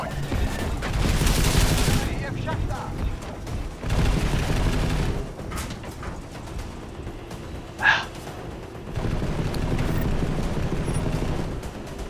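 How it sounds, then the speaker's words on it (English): Gunfire in the video game Deus Ex: Mankind Divided, with loud sustained bursts of automatic shooting and booms rolling in waves over steady background game noise, plus a brief sharp effect near the end. "See, they're shooting at the decoy."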